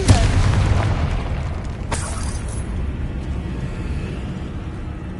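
Confringo spell explosion in Hogwarts Legacy: a loud booming blast at the start that decays into a rumbling tail, with a brief sharp crackle partway through, alone and close.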